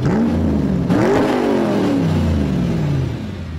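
A 2020 Ford Puma ST sport SUV engine roars up through the revs, dips briefly and climbs again, then its pitch slowly falls away; loud, close and continuous, with no talking.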